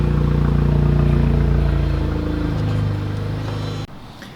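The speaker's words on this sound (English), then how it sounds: "this is one of the rare times where we actually get to hear the car" A Honda Civic engine idles and revs nearby, heard from outside, with a steady rumbling drone that fades slightly before cutting off abruptly near the end.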